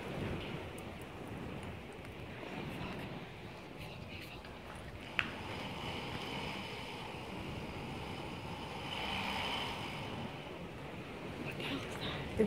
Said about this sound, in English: It's just the wind.